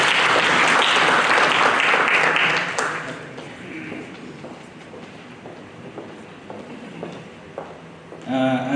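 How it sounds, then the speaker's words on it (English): Conference audience at a real estate and infrastructure event bursts into loud, dense applause that fades after about three seconds into scattered claps and room noise, before a voice speaks at the end. "So a big round of applause, please"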